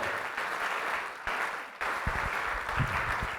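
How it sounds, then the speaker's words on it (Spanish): A church congregation claps steadily in a dense, sustained wash of applause, loud and close, with a few low thumps in the second half. "¿Alguien le da un aplauso al Señor en esta hora?"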